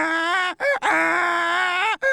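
A voice imitates a female donkey's bray, drawn-out groaning honks broken by short gasping breaths, loud and close.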